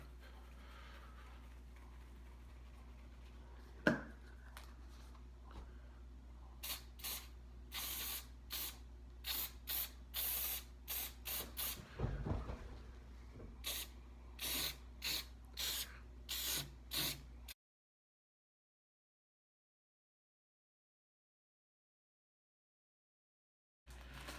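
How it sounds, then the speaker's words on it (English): Short bursts of spray adhesive hiss from an aerosol can in quick succession, close and steady, followed by silence. "so I'm going to use my spray adhesive"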